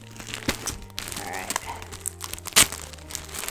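Paper or plastic wrapping crinkles and tears as a double-wrapped fabric package from a remnant fabric order is opened, with scattered rustles, one loud rip, and a brief spoken remark.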